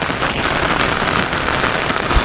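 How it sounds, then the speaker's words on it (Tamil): Heavy rain pours down at a Sivan temple in Thellur near Vellore, a loud, dense and steady wash of drops hitting surfaces close by, with no voices. "மழை பேஞ்சிக்கிட்டே இருக்குங்க பாருங்களேன் மழை வச்சு விளாசுதுங்க"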